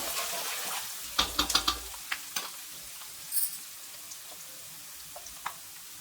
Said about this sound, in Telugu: సన్నగా తరుక్కున్న అల్లం ముక్కలు, కొంచెం ఫ్రై అయ్యాక